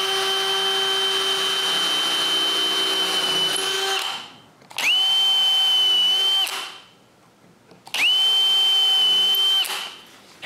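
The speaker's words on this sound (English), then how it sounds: "I can mark where the pilot holes should be and drill them." A power drill bores pilot holes in wood in three loud bursts: one long run, then two shorter ones, each spinning up to a steady whine, separated by brief pauses.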